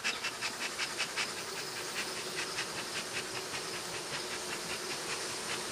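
A steady hissing rush with rhythmic puffs, like a bee smoker being pumped nearby to drive honeybees down off a frame into a hive, over a faint background hum.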